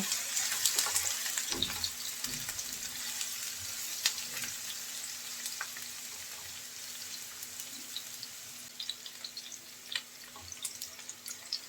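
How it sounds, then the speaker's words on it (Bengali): Chopped onion and crushed garlic frying lightly in oil in a pan, a steady close sizzle and crackle with intermittent stirring clatters, no talking. "পেঁয়াজ রসুন হালকা একটু ভেজে নেব"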